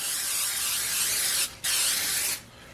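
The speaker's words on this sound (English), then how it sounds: "I'm going to take this pan and spray it." Two bursts of hissing spray from a cooking spray can onto a pan, the first longer, the second shorter after a brief pause, close and loud.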